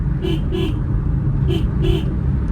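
On a mountain road, a car horn gives two pairs of short, fairly close toots, spaced about a second apart, over a constant bed of engine and road rumble.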